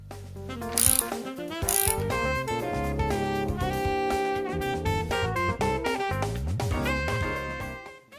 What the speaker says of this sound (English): Tighten the nuts to secure the hangers to the door.